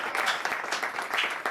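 Dense applause from a large audience of thousands at a Hindi poetry recitation, a continuous crackling wash of clapping lasting about a second and a half.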